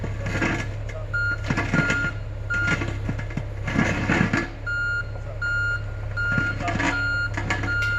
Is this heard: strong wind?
no